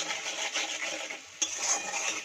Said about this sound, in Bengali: নুন আর হলুদ লঙ্কাটা দিয়ে আবার একটু কিছুক্ষণ নাড়িয়ে চাড়িয়ে নেব।